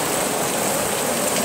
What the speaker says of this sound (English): listening to it rain